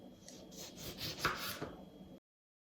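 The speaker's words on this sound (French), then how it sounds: "je vais les couper en rondelles" A knife slicing washed lemons into rounds on a board, soft close rubbing and cutting strokes repeating steadily for about two seconds, with one sharper cut near the middle, alone without talk.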